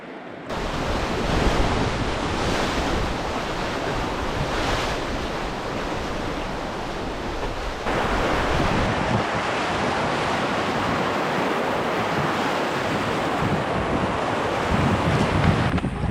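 Whitewater on a class 2 rapid of the Lower Salmon River, heard from a raft: a steady, loud roar of churning water with wind buffeting the microphone throughout and no voices.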